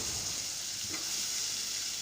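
Soaked potatoes sizzle steadily in a hot kadhai, a constant bright hiss with a faint clink of stirring.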